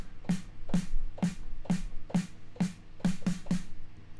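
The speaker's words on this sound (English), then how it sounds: "It is the snare drum." Snare drum sound triggered from a keyboard, eight evenly spaced sharp hits with short bright decays, the last few slightly quicker, fairly quiet and alone.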